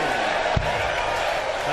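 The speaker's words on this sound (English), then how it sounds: "And again, the crowd celebrates." A darts crowd at the 2016 BDO World Darts Championship roars in celebration of a score, a loud, sustained wall of cheering with one sharp thump partway through and a commentator's voice faintly underneath.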